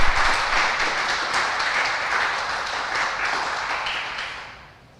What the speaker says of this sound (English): we applaud for them.